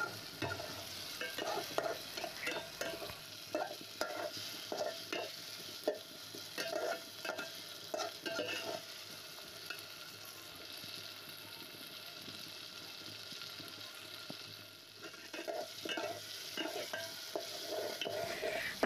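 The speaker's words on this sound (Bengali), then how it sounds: "আলুটা একটু হালকা ভাজা ভাজা হয়ে যাক, ততক্ষণ একটু নাড়ি।" Potatoes fry in a pan over a clay stove while being stirred, rhythmic scraping strokes over a soft sizzle, fairly quiet and steady with no talking.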